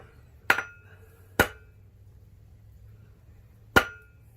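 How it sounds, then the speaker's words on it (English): Three sharp metallic hammer blows on copper over an anvil ring out, two close together and one after a pause, each with a bright clanging ring over quiet background. "Half hammer face blows on the end of the material."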